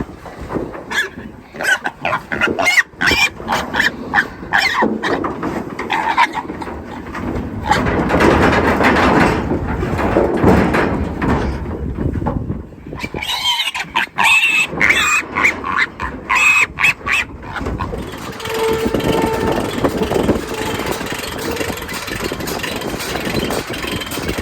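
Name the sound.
trapped wild hogs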